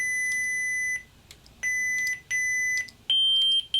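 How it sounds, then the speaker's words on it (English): Korbanth lightsaber hilt in volume mode giving four clear electronic beeps, near and alone, each holding about half a second, the last one higher in pitch. "that beep means we're in volume mode"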